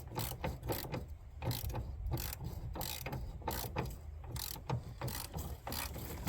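A ratchet tightens a bolt underneath a car in quick bursts of sharp, rapid clicking, repeated strokes with brief pauses between, close and fairly quiet.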